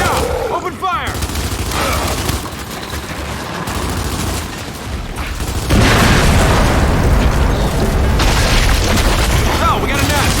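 Dense video game firefight in a battle royale match, with booming explosions and rapid gunfire bursts layered continuously, growing louder and more intense in the second half, with voices calling out over the action.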